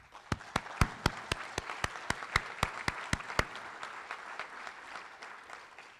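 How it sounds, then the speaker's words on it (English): An audience applauds graduates at a school graduation ceremony, starting with a few loud, evenly spaced claps up close, then continuing as softer, scattered clapping across the room. "Let's give them a round of applause."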